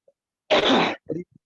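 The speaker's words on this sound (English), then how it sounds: "Just clear your throat like this." A single harsh, forceful throat clearing, close and loud, followed by a shorter rasping catch and silence around it.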